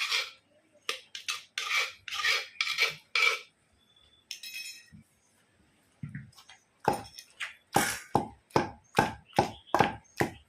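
Gongura chutney ingredients being ground by hand in a stone mortar: repeated rough grinding strokes in a steady back-and-forth rhythm, close and crisp, with a short pause midway before the strokes resume faster.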